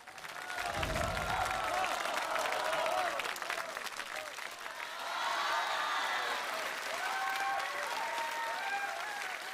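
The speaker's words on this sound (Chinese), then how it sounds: "感谢大家热烈的掌声啊！" Audience applause fills a comedy-show hall at a crosstalk and sketch competition, loud steady clapping throughout with a brief swell midway and a few voices mixed in.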